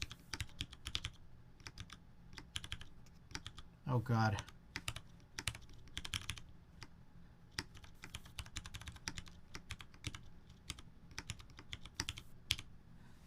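Steady fast typing on a TX-60 mechanical keyboard during a full-keyboard Monkeytype typing test, a dense run of close clicks and clacks with a short spoken exclamation partway through.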